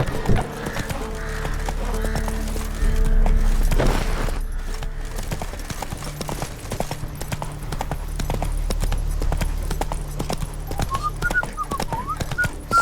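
Horse hooves galloping in The Witcher 3, a steady rapid clip-clop running nearly the whole time over low game ambience and music, with a louder thud-filled stretch near the start.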